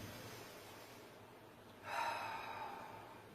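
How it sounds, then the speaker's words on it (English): A single sharp, forceful breath during a yoga practice, a strong nasal exhale arriving partway through over quiet room tone. "We're going to take 3 rounds of breath."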